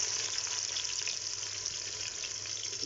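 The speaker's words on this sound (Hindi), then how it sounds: "और उसी घी में हम ये अपने दूसरे प्याज डाल" A second batch of onions sits in hot ghee for mutton haleem, a soft, even crackling hiss close by that stays steady with no voices.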